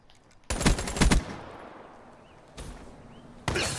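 Shotgun blasts in the video game Call of Duty: Black Ops III, with several loud, close bursts of firing at the start, then a decaying tail, a softer shot and another sharp blast at the end, with no talk.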